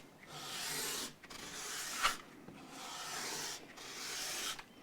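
Sanding block worked back and forth on a Gibson ES-335 guitar during setup, making four slow, even rasping strokes with brief pauses between them, close and fairly quiet.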